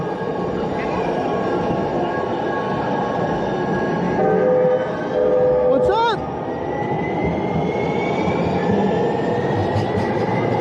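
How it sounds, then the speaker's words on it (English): A train passes on a Minneapolis street with a loud, continuous rumble of cars on the rails. Horn blasts sound in the middle, and a person speaks briefly close to the microphone. "Got a train here."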